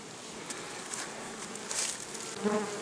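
Honey bees buzzing around hives at an apiary in late July, a continuous soft drone with individual bees passing close by now and then.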